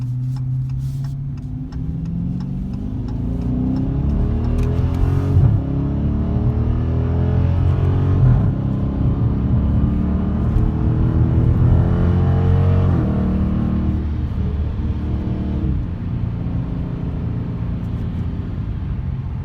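A 2017 Dodge Challenger R/T Plus in sport mode with manual shifting accelerates hard, its engine note climbing repeatedly and dropping at each gear change, loud and close throughout.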